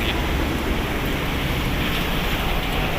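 Steady wind rushing and buffeting with a broad wash of surf behind it on the Manila Bay shore, constant and fairly loud throughout, no voices.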